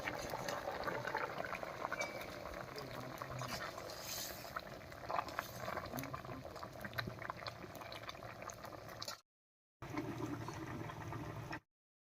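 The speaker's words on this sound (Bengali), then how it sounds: "বলক উঠে গেছে" A red curry of taro stems bubbling in a pot, a soft steady simmering burble heard close but quiet, broken by a short gap of silence.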